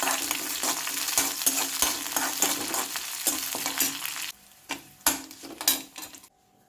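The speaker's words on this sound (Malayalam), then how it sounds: "ഇനി ഇതിൽ ഒരു ചെറിയ ഉള്ളി ചെറുതായിട്ട് അരിഞ്ഞതും വറ്റൽമുളകും കൂടി ഇതിലിട്ട് വറുക്കാം" Shallots, dried chillies and mustard seeds frying in ghee for mango pulissery, a loud continuous sizzle broken by sharp stirring clinks of a spoon against the pan, fading toward the end.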